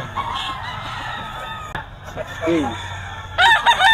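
Roosters crow and chickens cluck at a busy poultry market, with a sharp crow rising near the end over a steady crowd murmur and scattered background voices.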